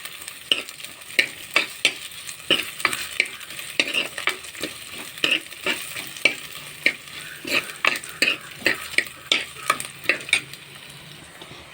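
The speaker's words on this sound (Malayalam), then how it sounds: "ഇനി നമുക്കിതിലേക്ക് അരിഞ്ഞു വെച്ചിരിക്കുന്ന ഇഞ്ചിയും വെളുത്തുള്ളിയും ചേർത്ത് കൊടുക്കാം" Chopped ginger and garlic frying in a pan as they are stirred, with a steady sizzle broken by regular sharp scrapes of a utensil, close and fairly loud, and no voices.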